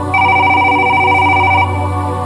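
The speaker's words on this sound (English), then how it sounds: "Suddenly the phone rang, breaking the silence." A telephone rings once in a loud electronic tone lasting about a second and a half, then stops, leaving a low hum and no voices.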